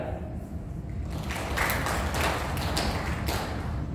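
A crowd claps together in a burst of applause, steady and moderately loud, starting after a moment of room noise.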